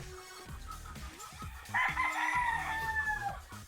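A Sweater breed gamefowl rooster on a game farm lets out one loud, drawn-out crow partway through, over quieter farmyard clucks and knocking sounds, with no one speaking.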